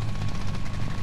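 Helicopter in the Call of Duty Warzone video game setting down, a steady loud rotor drone with a low thrumming pulse and faint crackling gunfire mixed in.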